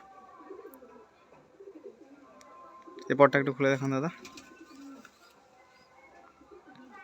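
Pigeons in a Madrasi breeding loft give soft, scattered coos, then one loud, close, buzzing coo lasting about a second, with someone speaking over the birds.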